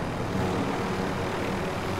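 A helicopter engine in a video game drones steadily as a loud, continuous broadband roar with no pauses.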